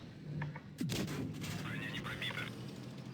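Booming tank cannon shots in World of Tanks Blitz, from a T54, ring out, one sharp blast near the start followed by a sustained rumble, with faint talk beneath.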